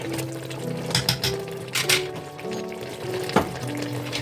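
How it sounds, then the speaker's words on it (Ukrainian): A spoon stirring a thick vegetable salad with tomato paste in a pot, soft wet scraping and squelching with a few faint clinks, close and unhurried. "обережно перемішуємо"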